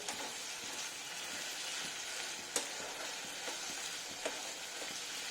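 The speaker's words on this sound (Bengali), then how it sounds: "আমি এবার নাড়াতে থাকবো মাঝে মাঝে যতক্ষণ না তেল ছাড়ে" Ridge gourd frying in oil in a pan gives a faint, steady sizzle, with a few soft scraping knocks as it is stirred now and then, and no voices.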